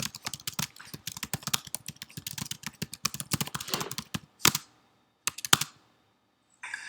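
Rapid clicking keystrokes on a computer keyboard, close and steady for about four seconds, then two short separate bursts of typing after a pause and a brief final burst.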